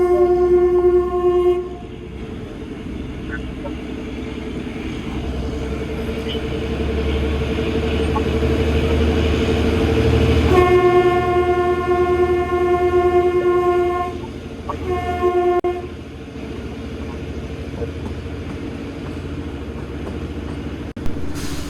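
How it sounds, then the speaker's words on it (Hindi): A Kalka-Shimla toy train pulls out of Kalka railway station, sounding its horn in long, loud, sustained blasts over the steady rumble and rolling of the carriages, then a shorter blast before the train noise continues alone. "तो इस खूबसूरत सी हॉकिंग के साथ और रिदमिक चगिंग के साथ"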